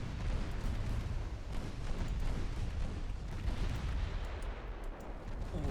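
Battleship guns fire in the naval video game Ultimate Admiral Dreadnoughts, a dense, continuous rumble of distant booming salvos that overlap into a heavy roar.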